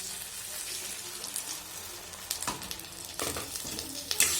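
New potatoes frying in a pan for aloo dum, a continuous close sizzle with a few louder scraping stirs toward the end.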